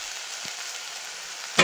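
Spices with onion paste, garlic and ginger paste, chopped tomato and green chillies fry in a pan, giving a steady close sizzle with a brief louder stir-like burst at the end and no talking.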